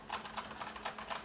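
Mechanical keys on an NKEY P1 keyboard being wiggled and tapped, a rapid run of light clicky clacks in an uneven rhythm, close and fairly soft with no talking.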